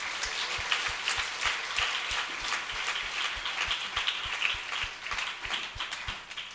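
A church congregation claps in a steady, fast rhythm, with sharp hand claps repeating under a dense wash of applause that carries on evenly throughout.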